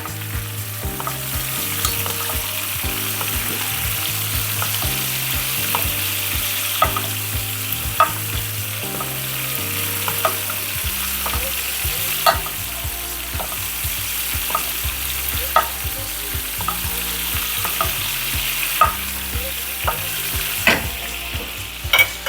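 Steak and garlic frying in a pan give a loud, steady sizzle and hiss up close, with occasional stirring clinks and pops scattered over the continuous crackle.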